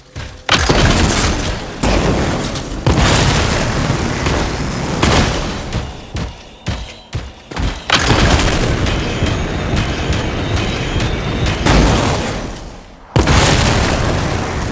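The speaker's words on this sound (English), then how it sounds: "It'll be a contained explosion." Explosions in the video game Anthem, with a series of loud, heavy booms and crashing bursts separated by brief lulls and rolling rumble throughout.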